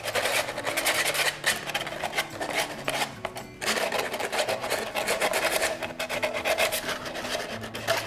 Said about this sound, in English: you're just going to want to sand them down a little bit to make it smooth